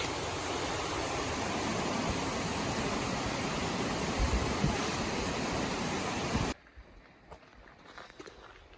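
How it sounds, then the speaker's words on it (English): Waterfall near Dream Lake in Rocky Mountain National Park, a loud, dense roar of rushing water close by that cuts off abruptly, leaving faint outdoor ambience with light footsteps. "Got a nice waterfall feature right before Dream Lake."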